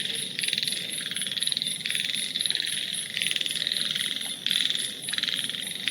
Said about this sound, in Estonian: Siin on konnakoor.